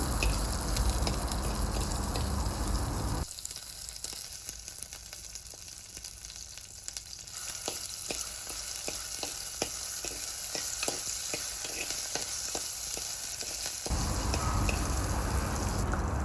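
Chopped garlic and curry leaves sauté in a pan for a prawn curry with drumsticks, giving a steady sizzle that dips in the middle into rhythmic spatula scrapes and taps before the loud frying returns.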